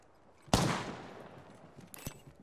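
Gunfire in the Apex Legends video game: a sharp, loud burst of shots opens the clip and decays into a ringing tail, followed by another crisp crack near the end.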